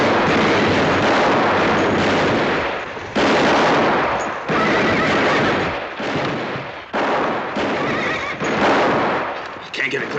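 Gunfire from an Old West shootout in a town, heavy dense bursts of shots with horse whinnies mixed in, loud and continuous with brief dips between volleys.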